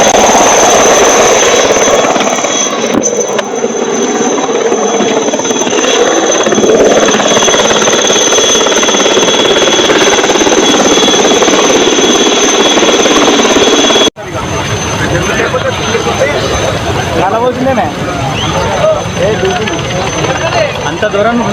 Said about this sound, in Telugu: నర్మల వాగులో చిక్కుకున్న వారిని రక్షించడానికి చేరుకున్న ఆర్మీ హెలికాప్టర్